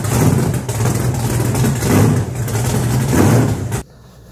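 A 1000+ horsepower Volkswagen Beetle engine with a big cam revs loud and close with a rough, choppy, lumpy idle, rising and falling in waves before cutting off abruptly.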